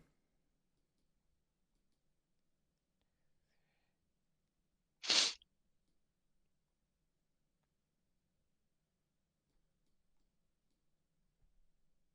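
A cat sneezes once just outside a door, a single sharp, fairly loud burst in an otherwise quiet room.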